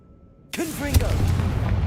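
Confringo fire blast spell from the Hogwarts Legacy video game: after a brief silence, a sudden whooshing fiery burst with a sharp crack and swirling tonal sweep, followed by sustained rumbling roar.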